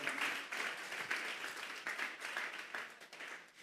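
A church congregation claps in praise during a service, faint and distant, in rhythmic waves of many hands that pulse steadily through the whole stretch.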